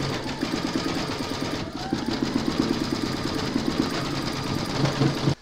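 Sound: embroidery machine stitching out lace leaves

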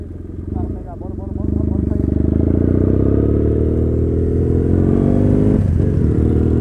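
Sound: motorcycle engine during wheelie stunt

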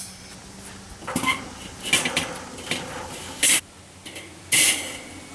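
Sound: placing metal grate onto Weber charcoal grill

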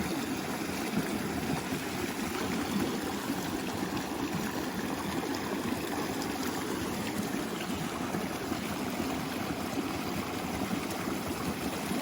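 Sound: waterfall

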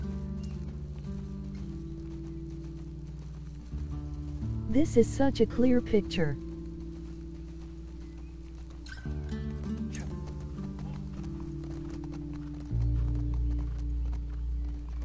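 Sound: horse hooves clip-clopping in the video game The Last of Us Part II

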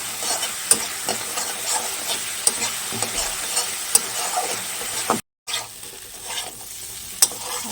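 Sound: spice masala being stir-fried in pan

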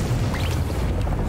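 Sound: cannon launch in the video game Rumbleverse

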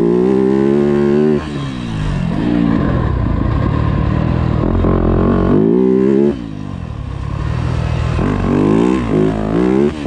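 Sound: Yamaha YZ250F motocross bike riding on track

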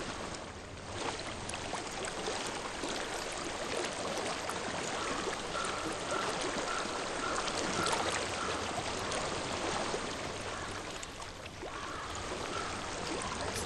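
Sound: flowing water in a video game

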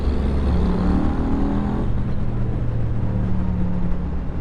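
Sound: 2016 Yamaha FZ-07 motorcycle riding

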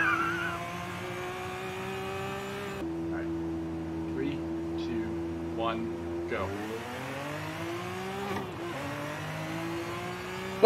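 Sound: F1 car accelerating in drag race, video game Forza Horizon 5

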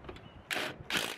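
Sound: ratchet tightening a bolt on the accelerator pedal

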